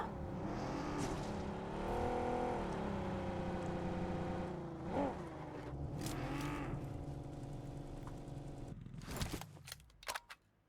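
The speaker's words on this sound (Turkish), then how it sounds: "Araç geliyor." A vehicle approaches in the video game PUBG Mobile, its engine droning and rising and falling in pitch as it revs and draws near, loud and alone with no talk, before breaking off into a few sharp clicks and knocks near the end.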